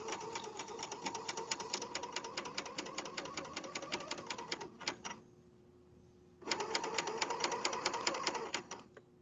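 A serger stitches and trims a pajama fabric seam with a fast, even mechanical chatter, a long run, a short quiet pause, then a second run.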